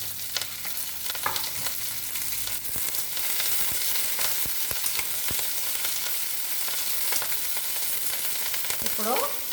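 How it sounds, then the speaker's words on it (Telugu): Green chillies fry in hot tempering oil in a pan, making a constant close sizzle and crackle with scattered sharp pops and occasional stirring scrapes, and no voices. "ఇందులో పచ్చిమిర్చి కూడా వేస్తున్నానండి చక్కగా"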